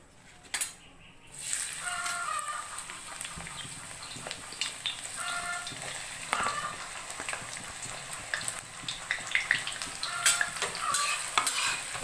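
Onions frying in oil in a kadai, a sudden burst of sizzle as they hit the hot oil followed by steady crackling and repeated metallic scraping of a spatula stirring, close and clear.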